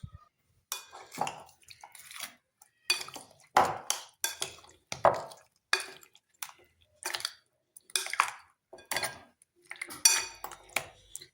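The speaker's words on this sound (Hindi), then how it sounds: "इसको अच्छी तरह मिक्स करते हैं" Ginger paste being stirred in a pot, with repeated wet scraping and clinking strokes of a utensil in an irregular rhythm, close and fairly quiet between strokes.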